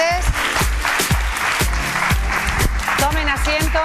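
A TV talk-show studio audience claps to welcome guests onto the set, the applause running under a pounding music beat with voices speaking over it.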